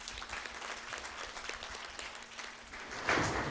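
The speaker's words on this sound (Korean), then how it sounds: "다시 한번 박수를 청해드리면서" Applause from a crowd at a talk concert after a band's performance, steady clapping throughout with a brief louder swell near the end.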